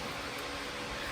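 Electric fan running steadily in a hot workshop, a constant broadband whoosh of moving air held at an even, moderate level throughout with no talking.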